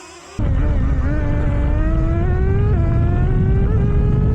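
A nitro-powered RC race car engine kicks in abruptly and holds a loud, high, buzzing whine that climbs slowly in pitch with small throttle dips, staying close and continuous.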